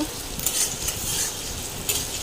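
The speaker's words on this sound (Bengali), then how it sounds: "কড়াইতে পেঁয়াজ আর লঙ্কা চেরা ভালো করে ভেজে নেব" Chopped onions and slit green chilies frying in oil in a wok, giving a continuous close sizzle with occasional stirring scrapes and no talking.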